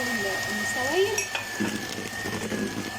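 Eggs, sugar and oil are beaten lightly for a basbousa cake, giving soft scraping and tapping against a bowl, close and moderate in volume, while a person talks over the mixing.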